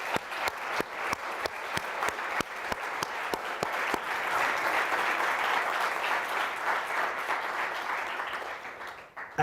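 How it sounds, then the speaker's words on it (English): An audience at an award ceremony applauds a winner, with a steady, fairly distant wash of clapping and some sharp individual claps, lasting several seconds before tapering off at the end. "So a round of applause."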